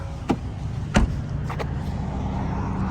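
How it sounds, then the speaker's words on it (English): A 2018 Ford F-150 Raptor pickup being unlocked: three short mechanical clicks spaced about half a second apart over a steady low background hum, with no voices. "I forgot to unlock the vehicle, so let me do that"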